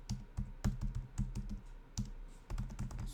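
Fingers type on a computer keyboard in quick, uneven bursts of soft clicks and key thumps, close and fairly quiet, with short pauses between runs of keystrokes.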